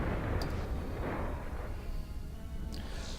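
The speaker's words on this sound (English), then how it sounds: "Okay, Gatling phasers. You do your work." Gatling phasers fire in the starship combat game Starfleet Command: Orion Pirates, a dense rumbling barrage with sharp crackling zaps near the start and end, continuous and fairly loud.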